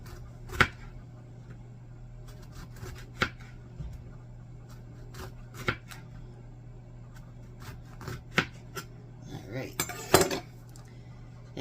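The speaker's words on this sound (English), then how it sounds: "the next thing I want to do is slice up some lemon" Close, fairly quiet knife cuts through a lemon on a cutting board, a run of evenly spaced taps with light clinks of utensils and a brief rustle near the end, no talking.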